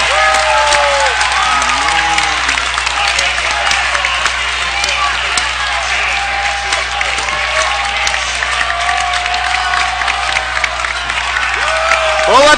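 A high school boys' basketball section quarterfinal crowd at Chaska roars after an offensive foul call, with loud sustained cheering, clapping and shouts filling the gym throughout, while a commentator's voice is heard over it.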